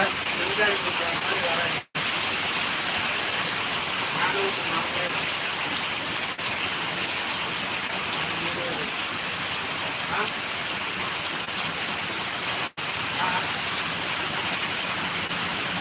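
Heavy rain pours down in a dense, continuous hiss of drops striking surfaces, loud and unbroken apart from two brief dropouts.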